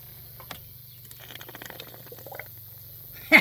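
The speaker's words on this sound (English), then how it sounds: "Gurgle, gurgle." Engine coolant gurgles faintly as it drains from a 2014 Chrysler Town & Country during a thermostat replacement, soft intermittent bubbling, followed by a sharp knock at the end.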